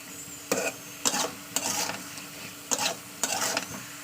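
Potatoes fry in oil with spices for a Bengali fish curry with peas, stirred in about six short scraping bursts over a steady, soft sizzle, close and fairly quiet, with no talking.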